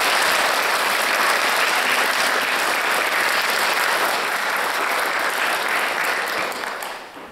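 A crowd at an arts event applauds steadily, with dense, close clapping that holds for several seconds before fading out at the end.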